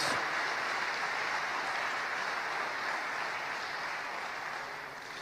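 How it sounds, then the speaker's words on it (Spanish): A church congregation gives a strong round of applause after a scripture reading. The clapping is a steady, dense wash at moderate volume that fades gradually toward the end. "Vamos a darle un fuerte aplauso."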